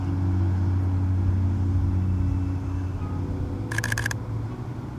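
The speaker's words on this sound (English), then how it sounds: "if you can hear the shutter through the microphone, you'll hear all 3 shots go off" A camera shutter fires during handheld landscape shooting, heard as one brief rapid burst of mechanical clicks over a steady low engine-like rumble.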